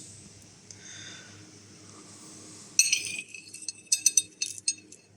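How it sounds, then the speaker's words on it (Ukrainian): A dinner plate is set down on a precision kitchen scale, giving a bright ceramic clink followed by a short run of lighter clinks and rattles at close range, after a quiet stretch of room noise. "Поставимо тарілочку."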